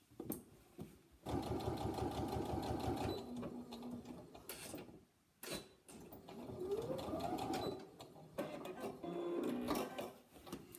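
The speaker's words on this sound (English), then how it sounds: "So again, I'm going to machine along that edge." Domestic sewing machine stitching a side seam on fabric for a fabric pot, running in several loud, steady bursts with brief pauses between, close by and alone.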